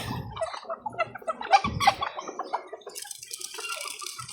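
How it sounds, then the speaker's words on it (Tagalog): Several chickens cluck and squawk close by in short irregular bursts, with scratchy rustling and a few higher chirps toward the end. "aking mga manok sa aking bahay"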